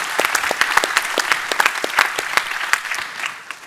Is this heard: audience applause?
yes